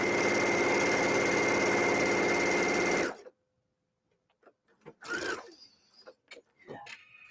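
A sewing machine runs steadily for about three seconds, stitching a seam through heavy specialty fabric, then stops abruptly, leaving quiet broken by a few soft handling clicks and rustles.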